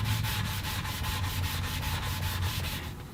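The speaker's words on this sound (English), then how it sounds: "I'll just go back and give everything a nice sanding" Steady rhythmic sanding strokes on a guitar body with fresh binding, close and continuous, a brisk back-and-forth rasp repeating about five times per second with no talking.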